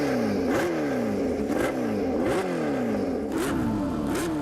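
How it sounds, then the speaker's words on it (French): A Kawasaki motorcycle with a fully open, straight-through exhaust, likened to a MotoGP bike, revs hard several times in a row. Its loud, close engine note sweeps up and drops back between blips. "regardez ce pot d'échappement, hein, carrément échappement libre, une sonorité digne d'une MotoGP"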